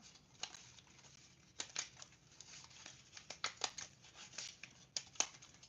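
Fiskars scissors snip paper in a quiet room, giving a series of soft, irregular crisp cuts and light crinkles close by.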